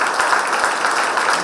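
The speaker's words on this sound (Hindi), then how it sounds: "जोरदार तालियां इनके लिए।" Loud applause at a Buddha Vihar gathering in Nagpur for a correct quiz answer, a dense steady wash of many hands clapping with no voices over it.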